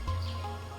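Brief electronic chime from Foggy Moon Golf signalling a pizza is done, a short tonal blip with faint birdlike chirping tones over a steady low hum.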